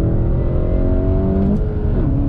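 A 2021 VW Golf GTI with a 6-speed manual accelerates hard on dry pavement, its engine note rising steadily and loud, with a brief tire chirp partway through.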